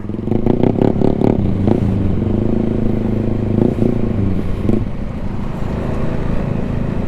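Engines rumble and rev nearby as Yamaha NMAX V2 scooters ride a rough trail in Dingalan, Aurora, with rattling clatter and a steady low drone, no talking.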